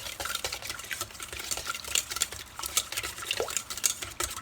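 Wet ingredients for pineapple coconut muffins being mixed in a bowl, giving soft, quiet stirring and light scraping with occasional faint clinks of a utensil against the bowl.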